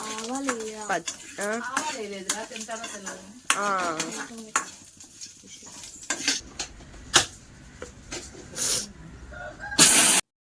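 Spices and dried red chilies for tempering sizzle in oil in a home kitchen while someone talks over them. A spoon clinks against the pan, and hissy crackling stays steady near the end.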